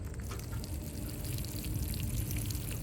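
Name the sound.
water poured onto dirt for game sound design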